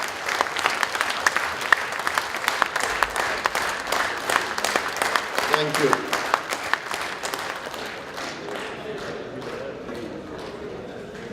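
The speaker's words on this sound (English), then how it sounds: "So please clap." Audience at a Rotary District 3010 event breaks into dense, sustained clapping that gradually thins and fades out toward the end, with a brief spoken thanks heard over it.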